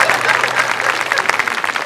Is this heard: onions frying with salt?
no